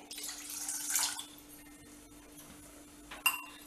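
Water poured from a cup into jaggery syrup in a kitchen pan for a sweet kozhukattai recipe, a short splashing trickle with a faint clink of the vessel, fairly close and quiet, followed by a brief clatter near the end.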